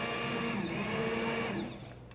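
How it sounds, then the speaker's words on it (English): An immersion blender whirs through hot mixed berry compote in a short, steady burst of motor hum, close and fairly quiet, then cuts off. "now I'm going to take my immersion blender and"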